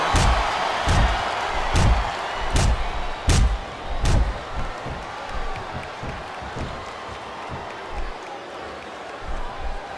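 A wrestling arena crowd at WWE SummerSlam 2006 chants in a steady rhythm, with sharp regular slams or claps punctuating the roar, loud at first and easing toward the end.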